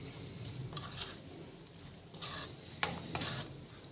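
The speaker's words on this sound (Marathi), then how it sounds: "आता हे सगळं आपल्याला छान मिक्स करायचं आहे." Oats dosa batter with red chilli powder and coriander is mixed in a bowl. Soft, quiet stirring and rubbing strokes come in a few short bursts, close by, with no talking.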